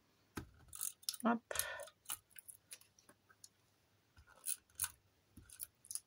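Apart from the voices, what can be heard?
glue tape roller applying adhesive to paper card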